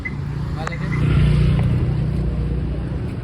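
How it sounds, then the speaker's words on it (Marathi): Car engine droning steadily on the road from Matheran to Lonavla, a low continuous hum that swells slightly midway, with voices talking over it. "गाडी आ रहा है"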